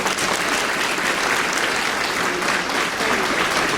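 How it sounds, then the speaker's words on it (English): Audience applause at a debutante ball, loud and sustained clapping from a full room that swells evenly across the moment without any speech. "Please give these young people another round of applause"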